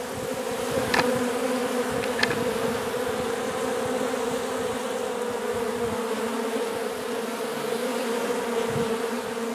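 Honey bees swarm and buzz around a nuke box after relocation from a gas tank, a dense continuous drone with individual bees passing close now and then.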